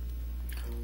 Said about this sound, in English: I squeezed most of the water out from the foam